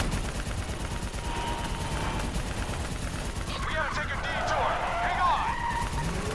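Muffled gunfire in the video game Call of Duty Black Ops III, a steady background rattle of shots with whooshing effects rising midway, fairly quiet throughout.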